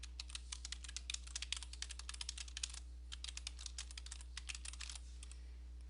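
Steady, rapid typing on a computer keyboard, with dense clacking keystrokes and brief pauses, close up and fairly quiet over a low hum.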